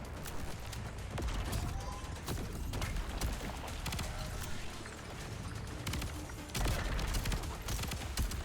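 Rapid gunfire from a video game action roguelite, dense continuous volleys of shots with mechanical clatter layered over a loud, busy game soundscape throughout.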